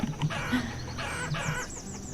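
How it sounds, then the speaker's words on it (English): Chickens cluck and a rooster crows in the village-building game Banished, a steady close flock of clucks and short calls over low ambient game sound, with no talk. "You're already hearing the chickens over here anyhow"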